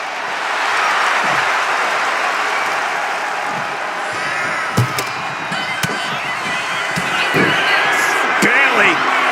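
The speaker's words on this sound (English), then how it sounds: "a live crowd doesn't get any hotter than this" A wrestling arena crowd in the WWE 2K25 video game keeps up a dense, loud roar of cheering, with sharp thuds and slams punching through and a commentator talking over it.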